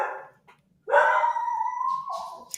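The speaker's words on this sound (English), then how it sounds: "The dog agrees. The dog agrees. The dog agrees. I think that's the postman. She's now attacking the post." A dog barks and then lets out a long, loud drawn-out howl at the postman arriving, close by, with no talk over it.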